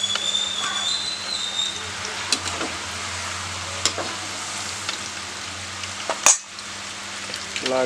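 Wild amla gooseberries frying in a pan for pickle, giving a steady close sizzle with occasional sharp clicks and stirring scrapes, and one loud clatter near the end.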